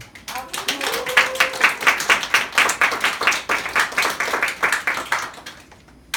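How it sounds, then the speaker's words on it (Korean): Church congregation clapping together at a Korean service: loud, close, rhythmic unison claps in a steady beat for several seconds, with a brief voice at the start before the clapping fades out. "박수 한번 해주세요."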